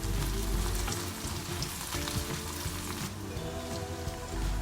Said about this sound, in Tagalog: Igisa ang bawang at sibuyas.